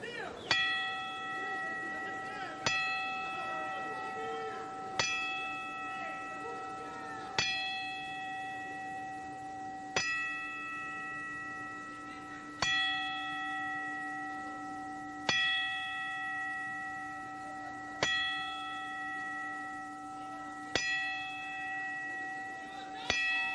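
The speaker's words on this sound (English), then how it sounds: "please remain silent while we toll 10 bells" A memorial bell at a boxing event strikes ten times at slow, even intervals, each clang ringing out and fading into a quiet hall before the next.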